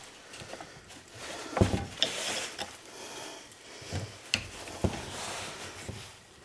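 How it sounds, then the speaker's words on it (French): A small screw is worked loose on a Carlin 701-801 oil burner, producing faint scattered metallic clicks and scrapes with a few sharper ticks, close and quiet with no speech. "Ça, je vais la dévisser au complet pour vous montrer comment elle est fabriquée."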